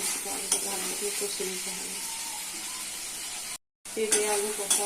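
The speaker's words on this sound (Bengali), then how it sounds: "হলুদি মশলা কষে নিতে হবে" Turmeric spice paste stir-fried with pumpkin and papaya, a steady close sizzle with spatula scrapes, cut by a brief silent gap before resuming.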